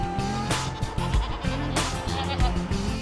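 Goats of the Alpine and Saanen breeds bleat loudly and close by in Poitou, France, several overlapping calls repeating in quick succession.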